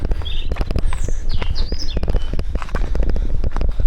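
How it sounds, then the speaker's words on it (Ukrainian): Birds chirp and sing in a hillside forest, several short high calls scattered across the clip over a low rumble and scuffing, like footsteps of someone walking a bicycle uphill. "Так, співають пташки."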